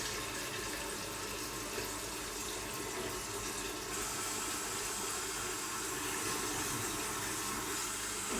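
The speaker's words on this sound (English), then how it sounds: "And then we just add cold water." Cold tap water pours steadily into a home-brewing fermenter for a Coopers Irish stout kit, a continuous rushing, splashing flow with no talk.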